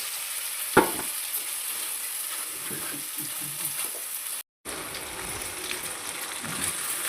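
Steady, bright sizzling of a blended tomato, onion and cashew paste frying in oil continues throughout, with one sharp clatter early on and a brief dropout partway through.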